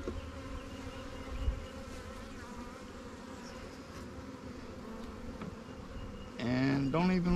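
Honey bees buzzing steadily around a Langstroth or Warre swarm hive fed with sugar syrup, a dense close drone throughout, with a louder bee passing near the end.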